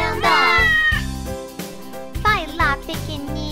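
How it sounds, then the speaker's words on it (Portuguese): A kitten meows repeatedly in a children's farm song about a tractor, several clear high mews sung over a bouncy backing track with jingling, loud and close. "O gatinho no trator faz miau, miau, miau."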